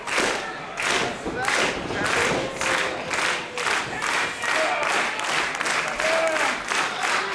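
A live wrestling crowd at an indie show cheers and claps in a loud, rhythmic wave of applause that pulses steadily, with shouts rising above the clapping.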